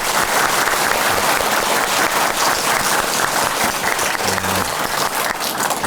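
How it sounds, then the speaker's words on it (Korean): A live audience claps warmly at a talk show taping on coffee history, a thick, continuous roar of applause that stays loud and even throughout. "자, 이 박수의 기운, 여러분의 이 정말 따뜻한 마음 담아서"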